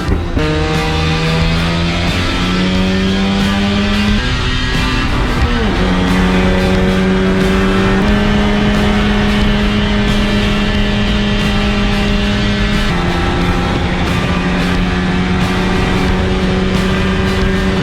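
A Mazda RX-7 engine wails loud and close through a fast corner, holding steady high revs with a few sharp gear-change dips, running continuously with no talk.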